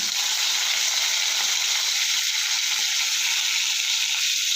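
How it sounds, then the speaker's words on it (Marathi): Asafoetida, curry leaves and mustard seeds sizzling in hot oil for a pithla tempering, a steady bright crackling hiss that holds evenly throughout, close and fairly loud, with no voices. "आता याच्यामध्ये मी हिंग टाकत आहे कढीपत्ता मोहरी"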